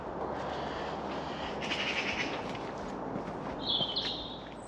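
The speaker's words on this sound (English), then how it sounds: "I'm hoping that you'll be able to hear the birds" Small birds call and chirp intermittently in an Oxfordshire community woodland, fairly faint and distant over a broad hiss of wind or rustling, with a brighter burst of song near the end.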